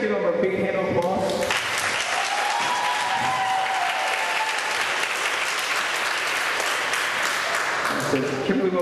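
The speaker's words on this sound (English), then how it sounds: "can you guys give them a big hand of applause?" An open mic crowd claps in sustained, steady applause after a brief stretch of lingering music and voice, the clapping loud and even for several seconds.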